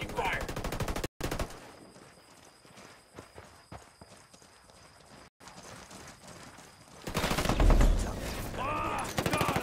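Gunfire from a military shooter video game, with bursts of shots and a loud, dense exchange near the end, layered over game background noise.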